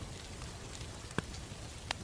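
Heavy rain falls in a steady, dense hiss with occasional sharper drop impacts and faint crackles, close and continuous with no voices.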